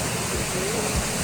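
A hidden waterfall roars with a dense, continuous broadband rush, loud and close, filling the whole moment without a break.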